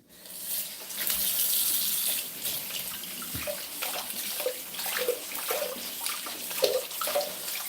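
Water runs steadily from a kitchen tap while carrots are scrubbed under the stream, a continuous close splashing gush lasting several seconds with faint rubbing and no talk.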